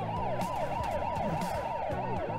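Several police sirens wail and overlap continuously in the Turbo Dismount video game, a loud and steady sweeping chorus with no talking.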